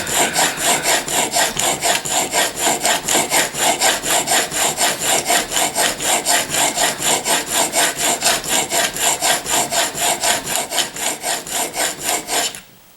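A wooden-handled chisel sharpened by hand, its steel rasping back and forth over a stone in a fast, even rhythm of about four strokes a second, loud and close, continuing for nearly thirteen seconds before stopping, with no talking.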